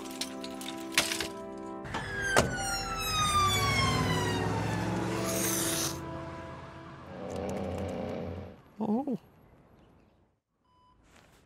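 A wailing ambulance siren in a cartoon street scene sweeps up and down in pitch. It rises over a crash and clatter, stays loud for several seconds, then fades. A short burst of noise follows.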